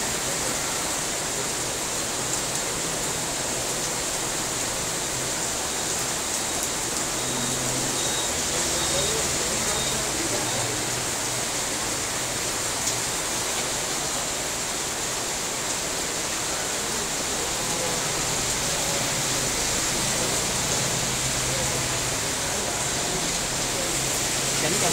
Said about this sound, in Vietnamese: Tại trời mưa quá rồi